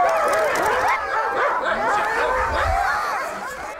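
Sled dogs in a dog yard on Svalbard bark, yip and whine together in a dense, overlapping chorus, loud and close with no talk over it.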